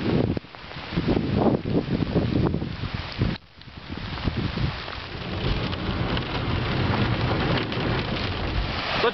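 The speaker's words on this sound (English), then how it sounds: "it's nothing but more than a little bit of a windstorm right now." Hurricane Sandy windstorm with steady, loud rain and gusting wind, a dense continuous roar that dips briefly before resuming at full strength.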